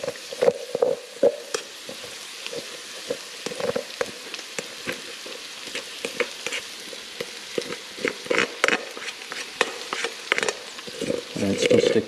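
Rice tipped into a hot pan, then sizzling and frying steadily, with scraping and stirring clatters throughout at moderate loudness; no talking.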